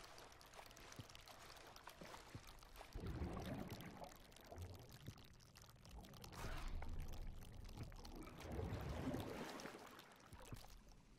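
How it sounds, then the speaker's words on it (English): Water flowing and trickling in the video game Amnesia Rebirth, a quiet continuous wash that swells and fades in a few gentle surges with no talk. "Oh great, water."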